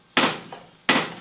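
Two sharp, loud hammer strikes at a construction site, spaced about three-quarters of a second apart, each ringing briefly before fading, with a faint tap in between.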